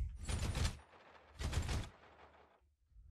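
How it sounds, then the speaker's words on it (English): Two loud bursts of rapid gunfire in the Overwatch video game on the Blizzard World map, each burst lasting about half a second with a fading rumble between them. "I have no idea what Captain Gankballs is shooting at"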